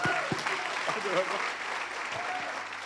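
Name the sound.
applause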